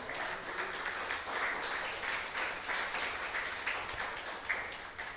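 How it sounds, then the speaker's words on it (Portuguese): A church congregation applauds during a worship service, a soft, even patter of many hands from across the room that holds steady for several seconds at a modest distance. "pode dar um aplauso para o Senhor e um glória para Ele."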